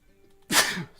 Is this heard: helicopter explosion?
no